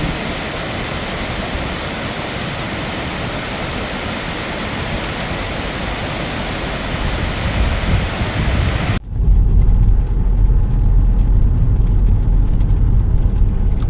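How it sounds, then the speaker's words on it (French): A waterfall beside a narrow road in Norway produces a constant loud rushing roar that abruptly drops to a deeper, muffled rumble partway through. "notre première cascade en Norvège."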